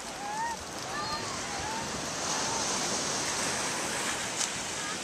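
Ocean surf washes steadily onto a busy beach at Culebra, a broad continuous hiss with faint birdlike chirps and distant voices in the background.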